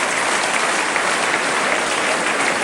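St Helens Saints rugby league crowd applauding, a dense steady wash of clapping from a large stadium audience that holds at an even level without a break.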